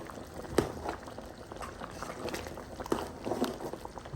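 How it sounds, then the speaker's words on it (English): Ofe Nsala white soup with yam simmers in a pot, a soft continuous bubbling with occasional louder blips and knocks, fairly quiet and close. "you allow to simmer and you cover"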